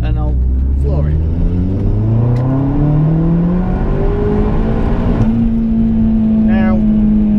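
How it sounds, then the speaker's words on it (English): A Vauxhall Astra VXR accelerates hard in second gear, with the engine note climbing steadily and loudly over several seconds before levelling off, heard from inside the car with a little voice in the background. "give it a bit of a second gear pull. I'm not going to grab the wheel too heavily, just my fingers like that, and I'll floor it"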